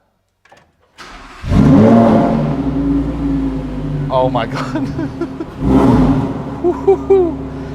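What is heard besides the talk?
car engine starting with push-button ignition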